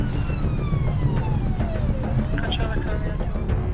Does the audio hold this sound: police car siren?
yes